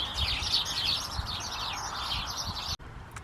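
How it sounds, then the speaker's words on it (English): Sparrows chatter in a roadside hedge beside a bridleway between Bream and the Beers, a dense continuous twittering of many small birds up close, with broadband cable work going on nearby. "All the little sparrows."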